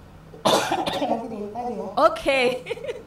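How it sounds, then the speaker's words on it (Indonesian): A short, sharp cough bursts out near the start, followed by a person talking and a brief chuckle-like sound. "Batuk banget nih."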